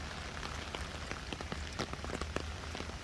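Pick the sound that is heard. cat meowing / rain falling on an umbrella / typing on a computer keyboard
rain falling on an umbrella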